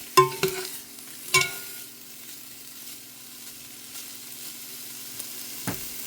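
Italian meatballs browning in a soup pot, a soft continuous sizzle with a few close clattering knocks from stirring near the start and one more near the end, no voices.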